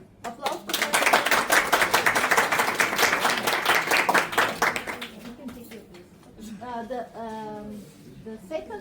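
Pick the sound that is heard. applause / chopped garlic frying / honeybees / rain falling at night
applause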